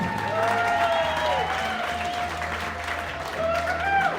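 An art-event audience in Wichita Falls applauds an artist, a soft, even wash of clapping with voices and tonal sounds mixed in over a few seconds.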